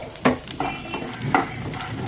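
Chickpeas frying in a pan, stirred with a spoon: a steady sizzle under several scraping, clattering stirs at uneven intervals, close and fairly loud.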